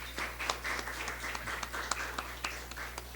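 An audience claps for a speaker at a national archaeology congress lecture. The claps are sparse and fairly faint, separate sharp hand claps over a low electrical hum, with no talk.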